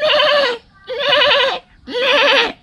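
A human voice imitates a young goat bleating: three loud, wavering bleats in a row, each about half a second long with brief pauses between, close and alone with no other sound.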